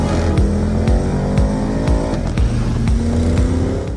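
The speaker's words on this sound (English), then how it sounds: "The current Cayenne generation is returning to the V8, which now comes for the first time as a V8 twin-turbo engine with a power of 460 PS." A Porsche Cayenne GTS with a 460 PS twin-turbo V8 revving and accelerating through several gears: a loud, close engine note rising in repeated sweeps broken by brief shift dips, with no voices.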